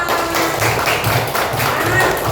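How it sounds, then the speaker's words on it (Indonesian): Children in a classroom clap together after a lesson on shapes, a dense, steady wash of small hands filling the room at close range with faint voices mixed in. "Tepuk tangan untuk kita semua"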